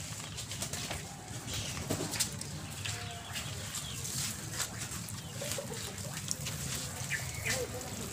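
Pigeons at close range, soft low cooing mixed with occasional sharp wing flaps and light rustling, faint and intimate, with quiet talk now and then.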